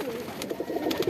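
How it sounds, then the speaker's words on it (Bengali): Domestic pigeons kept as a hobby coo softly in short, repeated low warbling bursts after being let out into the sun on a breezy day, heard near and fairly quiet against faint outdoor wind. "ভয়ে ভয়ে কবুতরগুলো ছাড়লাম, কারণ কবুতরগুলোর শরীরে রোদ প্রয়োজন"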